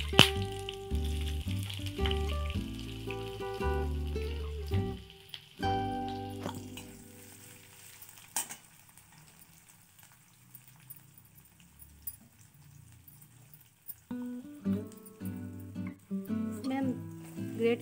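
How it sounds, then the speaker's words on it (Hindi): Cumin seeds dropped into hot oil in a pan, crackling and sizzling steadily at close range, with clinks and stirring of utensils and a pause before the frying resumes. "तेल में हम थोड़ा सा जीरा डाल देते हैं।"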